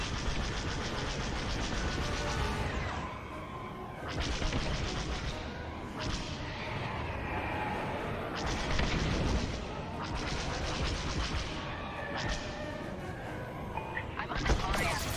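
Enemy weapons fire in the Star Wars: Squadrons space combat game, heavy bursts of blasts and booming impacts in repeated waves, loud and dense with brief gaps between volleys.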